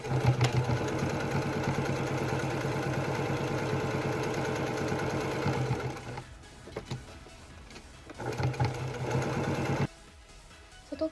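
Sewing machine tack-stitching a phone pocket onto the outer fabric of a smartphone shoulder bag made from an old obi sash, a fast even whirring run that pauses, restarts briefly and stops again, close and loud.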